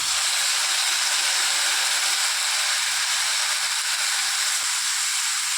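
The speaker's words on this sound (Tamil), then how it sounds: "தக்காளியும் பூண்டும் போட்டுக்கிறேன்" Tomato and garlic go into a pan of onions already fried golden, setting off a loud, steady, close sizzle that holds unbroken throughout.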